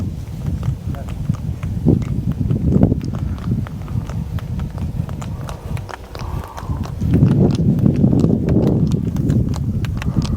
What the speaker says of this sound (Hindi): एक भैंसा बोगी सामने से आ रही है।